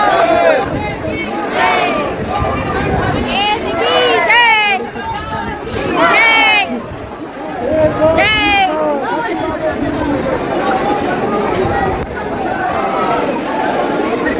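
Dense crowd of pilgrims queuing at the Khatu Shyam temple, loud babble and overlapping chatter with rising shouts and chants recurring throughout, close and continuous.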